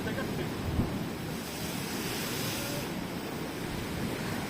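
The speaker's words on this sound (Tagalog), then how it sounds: "Dagat, dagat!" Sea waves wash steadily onto a Philippine shore, a continuous broad surf roar mixed with wind buffeting the microphone, heard up close with no clear breaks.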